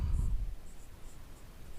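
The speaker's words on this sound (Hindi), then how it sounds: "तो हम यहाँ लिखेंगे" Chalk or marker scratches briefly across a classroom board, a soft, faint rubbing close by with a low murmur underneath.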